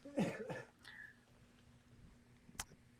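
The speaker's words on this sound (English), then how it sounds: "So I'm still getting over that cough." A couple of close, rough coughs at the start, then quiet room noise with a faint throat sound and a brief click later.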